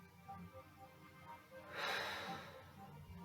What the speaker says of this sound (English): So remember to keep breathing.